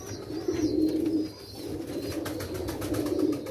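Pigeons coo in soft, repeated low murmurs, close by and steady, with faint chirps now and then above them.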